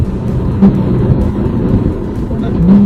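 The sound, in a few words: sports car engine rev matching on downshift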